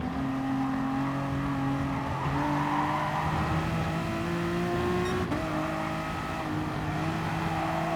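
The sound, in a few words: Honda NSX race car engine at Spa in GT Sport video game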